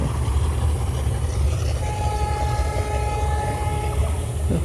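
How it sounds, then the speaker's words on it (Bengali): A train departs Tilakpur railway station in a steady, loud rumble of wheels and engine, with a faint sustained horn-like tone drifting through the middle of the noise. "আমাদের ট্রেন ছেড়ে চলে গেল"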